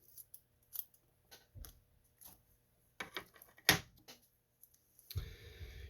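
Scissors snip through material while shaping a sucker head, a series of separate crisp cuts spaced irregularly, close and fairly quiet, with one sharper louder snip and a rougher rustle at the end.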